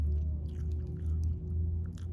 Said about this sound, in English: The seaweed is like crunchy.